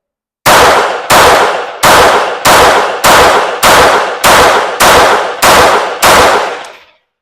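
A lightweight Glock 44 pistol fired at a target, ten loud sharp shots at a steady pace of roughly one every two-thirds of a second, each with a short ringing decay, no talking.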